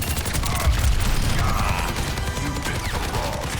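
Soldier's rifle in Overwatch 2 fires rapid continuous bursts, a dense crackling stream of gunshots up close with game effects mixed in, running the whole clip without talk.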